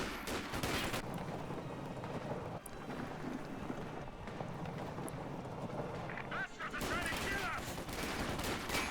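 MG42 machine gun fire in a Company of Heroes 2 battle comes as rattling bursts mixed with rumbling explosions and other combat noise, with a voice speaking over the action.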